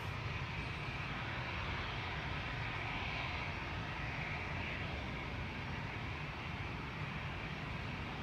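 Airplane departing Amsterdam Schiphol Airport, a steady broad engine roar that holds at an even, moderate level throughout without pause, heard from a distance with no talking.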